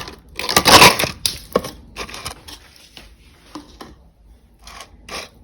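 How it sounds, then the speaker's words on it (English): Ice goes into a margarita glass as a loud clattering, crunching burst of cubes, then sparser clinks and knocks tapering off, close by with no talk. "next we're going to put in some ice"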